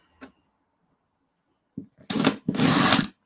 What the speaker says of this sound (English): So it's going to get a little bit noisy while I'm doing some drilling.